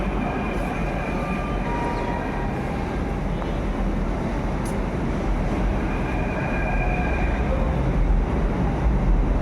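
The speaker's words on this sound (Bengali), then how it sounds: "আমাদের ট্রেন ঢুকছে মেট্রো স্টেশন।" A Jaipur metro train rumbles steadily into the station for several seconds, loud and continuous, with a faint high squeal at times and no clear talking over it.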